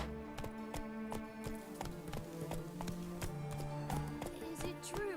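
The horse Roach trotting in The Witcher 3, a steady rhythmic clip-clop of hooves close by over about five seconds, with faint background ambience.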